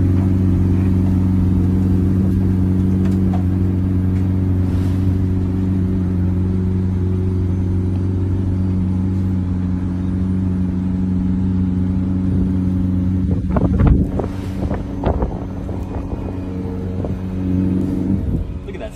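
A newly delivered McLaren supercar idles with a steady low engine rumble throughout, close by, with a brief rise around the middle like a light rev before settling back to a constant hum.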